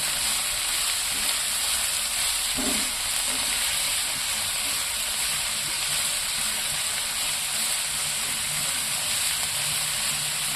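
Onions, tomatoes and spices stirred in hot oil in a pan, frying with a steady close sizzle and occasional light scraping of a spoon, with no talk.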